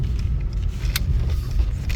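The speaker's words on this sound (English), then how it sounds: "man, always driving through dirt." A car rolling along a dirt road, with a continuous low rumble of engine and tires on loose ground, close and steady, with small rattles inside the cabin and no talking.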